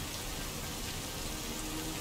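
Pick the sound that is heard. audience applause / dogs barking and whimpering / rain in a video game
rain in a video game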